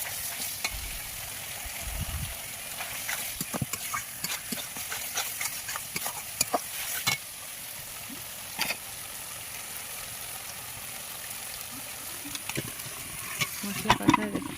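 Goat meat curry frying in spiced masala in a pan, with a steady soft sizzle throughout and scattered scraping clicks of stirring, a few louder knocks toward the end.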